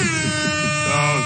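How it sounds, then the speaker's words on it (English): Blaring air horn blasts, loud and continuous, sounded as a celebration effect during a sports talk show about the Cowboys and Steelers, with a pitch shift near the end. "Air horns."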